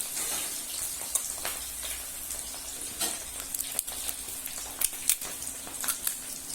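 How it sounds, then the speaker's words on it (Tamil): Cauliflower pakoda fritters frying in hot oil, a soft continuous sizzle with scattered louder pops and crackles, heard fairly close but at a modest level, with no voices. "எண்ணெய் காயிட்டணும் பகோடாவை போடலாம்."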